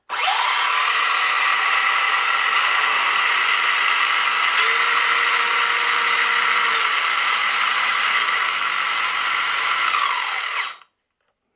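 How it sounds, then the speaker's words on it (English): A JJRC Q130 Pro brushless RC car motor whines loudly and steadily under sustained throttle for about ten seconds, its pitch shifting slightly as the speed changes, then cuts off abruptly. "squeeze the throttle, and adjust the speed switch while still holding it down so we can tell the speed difference"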